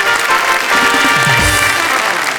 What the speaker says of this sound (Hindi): हम जोरदार तालियों से स्वागत करते हैं इनका।